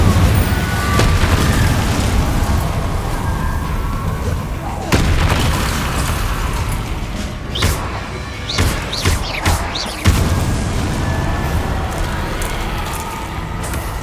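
Spell blasts in Hogwarts Legacy gameplay, including Incendio and Confringo, boom out as repeated heavy thuds and bursts amid dense combat noise, loud and close, while a voice calls out spell names.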